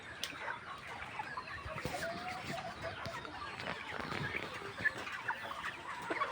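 Layer hens with watery eyes, sick with a swelling illness, cluck faintly in a shed, a low continuous murmur of the flock with a few brief calls rising above it.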